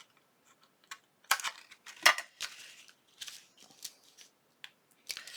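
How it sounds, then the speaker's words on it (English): A Fiskars paper punch snaps through paper in a series of sharp, irregular clicks and crunches, close and fairly crisp, with short gaps between punches and no talking. "I used this, the Fiskars punch."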